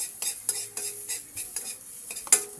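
Garlic sautés in butter in a wok, a faint sizzle broken by light scrapes and metallic stirring taps at an uneven rhythm, close by with no voice.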